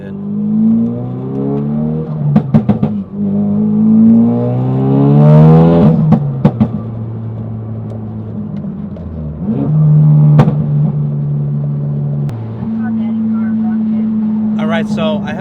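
A Ford Focus RS with an MBRP catless downpipe and ETS Extreme exhaust revs repeatedly, its loud engine note climbing and falling through several bursts with sharp pops and crackles between them, a voice talking over parts of it.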